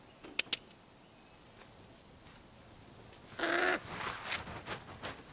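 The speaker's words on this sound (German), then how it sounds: "Klingt wie eine Krähe." A crow caws in Assassin's Creed Origins, one bright burst in the middle amid faint ambient game sound, with a few soft clicks and rustles around it.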